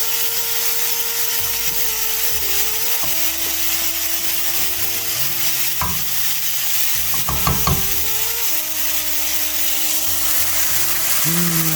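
Swiss chard and mushrooms sizzle and fry in a pan, a loud, steady hiss that lasts throughout, with occasional utensil knocks and a faint background hum.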